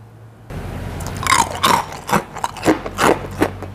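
Close, crisp bites and crunching chews of a crunchy spiral pandan coconut-root cookie, savory and lightly sweet, in a rapid run of sharp crackles with no talking.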